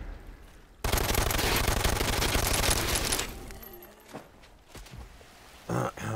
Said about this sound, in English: I just tested out the machine pistol thing